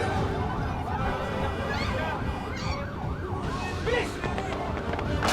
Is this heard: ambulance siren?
yes